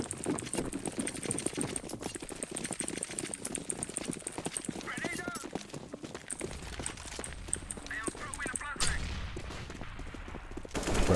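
Rapid bursts of Counter-Strike gunfire on the Inferno map crackle beneath continuous excited talking, with clattering footstep-like sounds throughout.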